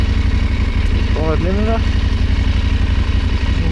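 A KTM 890 ADV R motorcycle idles through its warm-up, a loud, even, steady engine rumble throughout, with someone speaking briefly over it.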